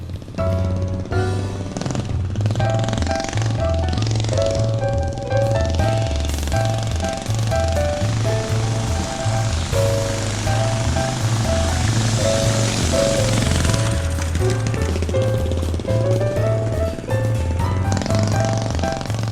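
A KTM mini bike fitted with a big motor rides on its first outing, its engine a loud, steady pulsing drone that holds throughout without any talk.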